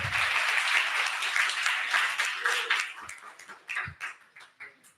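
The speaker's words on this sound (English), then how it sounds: "Can we all take an applause to thank everyone and everything for what they have done so far?" An audience at a collaborative finance event applauds with dense, bright clapping that swells, then thins out into scattered claps as it fades near the end.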